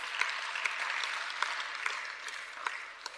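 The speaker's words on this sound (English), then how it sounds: "Give my MEC a strong round of applause." A workshop audience at a provincial climate change event gives a round of applause, steady many-handed clapping at moderate distance, lasting a few seconds.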